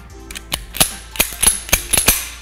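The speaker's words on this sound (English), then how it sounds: "Then I'm going to rack my slide a couple times." A pistol slide racked by hand during malfunction clearing, giving a series of sharp metallic clacks in quick pairs, close and fairly loud, with no talking.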